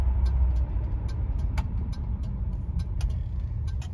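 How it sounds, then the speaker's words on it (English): A 1971 Mercury Marquis Brougham cruises at about 50 mph, its interior filled with a steady low road and engine rumble and a faint, regular ticking of the turn signal. "we're going 50 some miles an hour, just absolutely smooth"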